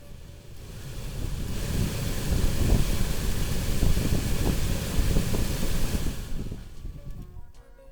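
Heater blower fan of a Renault Sandero running, a steady loud whooshing rush of air that builds up, holds for several seconds and then cuts off.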